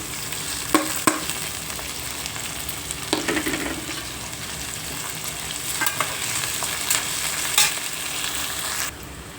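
Sliced onions and curry leaves fry in hot oil in a pan for ridge gourd curry, a dense continuous sizzle with occasional scraping stirs and small clinks of a utensil.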